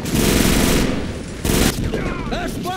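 Rapid bursts of gunfire in the video game Arctic Combat rattle loudly and close, a sustained volley with a sharper burst midway and whistling effects toward the end.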